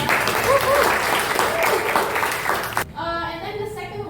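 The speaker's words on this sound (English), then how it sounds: "Okay, applause for Kalista." Applause from a classroom audience for a student named Kalista, about three seconds of clapping that stops abruptly and gives way to a brief tonal sound.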